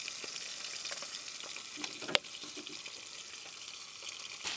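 Potatoes finishing in steak juice in a pan at a car camping setup give a soft, steady sizzle, with a sharp clink or scrape near the middle and a few light stirring knocks.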